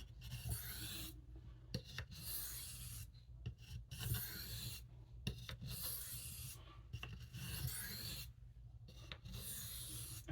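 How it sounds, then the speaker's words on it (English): A knife sharpened with alternating strokes on a hard Arkansas stone, a rhythmic series of close, dry scraping rasps separated by short pauses. "And so what I'm doing now with these alternating strokes"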